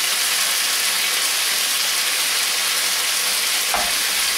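Chicken empanada filling simmering in broth in a pan, a steady close bubbling sizzle that holds evenly throughout with a brief soft clink near the end.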